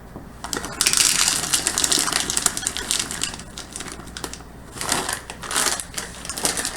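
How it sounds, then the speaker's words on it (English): Chocolate chips poured into homemade Italian biscotti dough, a dense rattling patter of small pieces landing in bursts over several seconds, close and fairly loud with no talking. "I'm going to put in just like a cup or so of chocolate chips"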